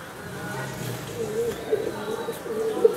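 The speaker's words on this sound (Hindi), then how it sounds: "ये सब कबूतर जो है ना, बहुत जानदार चीज़ है भाई।" Madrasi and Fulsira pigeons in a loft give soft, repeated low coos at moderate distance over a murmur of background noise.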